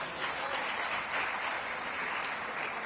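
An audience applauds steadily, a dense wash of clapping from many hands with no voices over it.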